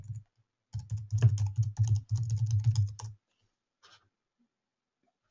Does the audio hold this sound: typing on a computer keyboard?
yes